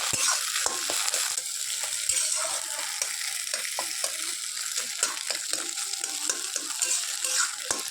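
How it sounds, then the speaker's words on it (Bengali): Egg bhujia sizzles in hot oil in a home kitchen while a utensil stirs and scrapes the pan, a loud continuous frying hiss broken by quick clattering stir strokes. "আবার ডিমটা ভুজিয়া করতে যে আমার হাতেই তেল ছিটকে আসলো।"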